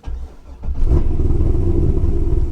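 A cammed C6 Corvette Z06 with a manual gearbox cranks over and then catches, its engine firing up loud and close and settling into a deep, lumpy, rumbling idle.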